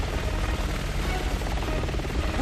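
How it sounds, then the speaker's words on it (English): Helicopter in the Resident Evil 6 video game, a dense continuous rotor thrum and engine roar filling the short span at steady loudness. "here we got another helicopter we gotta deal with"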